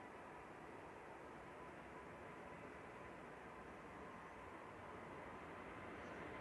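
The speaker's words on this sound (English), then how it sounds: "This is FHZUL A220-300 operating flight 1269." An Air France Airbus A220-300 departing Manchester Airport, a faint, distant, steady broadband jet roar that holds evenly throughout with no voices.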